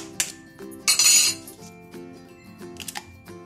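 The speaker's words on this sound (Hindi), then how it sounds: "और अब इसमें मैं 1 अंडा तोड़कर भी डाल दूंगी।" An egg is cracked into a bowl of flour and cornflour for Chicken 65 marinade, heard as a few sharp clinks and taps on the bowl with a brief rustle, close and fairly quiet.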